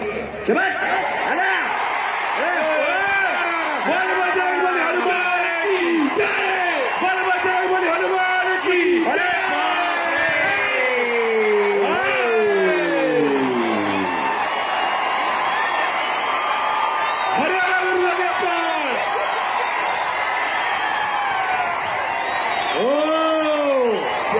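A large crowd at an outdoor wrestling bout roars and whoops continuously, with rising and falling shouts and an announcer's amplified voice carrying over the din.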